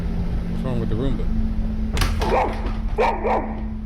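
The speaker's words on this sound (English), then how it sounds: "dog starts to growl toward the kitchen for no reason" A dog indoors at a home growls and then lets out a few loud, close barks at something toward the kitchen, over a steady low electrical hum, with a voice briefly heard early on.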